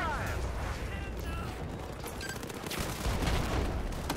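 Battlefield 4 campaign gameplay in Singapore, with flashbang grenades and gunfire: a dense, steady clatter of shots and bangs runs throughout, loud and busy, with a voice talking over part of it.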